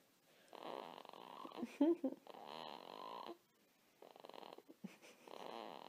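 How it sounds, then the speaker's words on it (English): Soft, rhythmic snoring from a newborn, a few drawn-out breathy snores close by, separated by brief pauses of quiet. "Is that a snore?"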